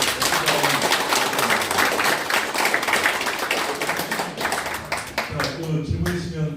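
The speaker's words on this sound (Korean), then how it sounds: "박수로" A room full of people clapping steadily at a Korean lecture forum, dense and loud throughout, with some voices mixed in toward the end.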